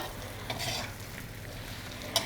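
Dumba mutton karahi fries in natural ghee and fat, a continuous soft sizzle with occasional stirring scrapes and a sharp clink near the end.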